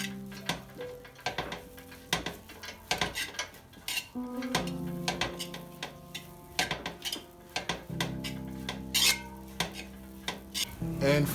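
Egg fried rice with seasoning being stirred and tossed in a pan, with repeated clinks and scrapes of a utensil against metal over a steady low sizzle, close and moderately loud, no talking.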